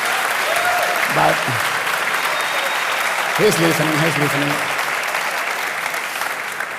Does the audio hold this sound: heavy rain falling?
no